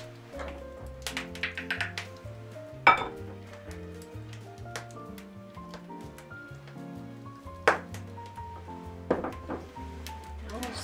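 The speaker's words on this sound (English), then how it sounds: "Stir it until it's combined." A spoon stirs milk into gingerbread batter in a bowl, with scattered clinks and scrapes against the dish and two sharper knocks, heard under background music and occasional talk.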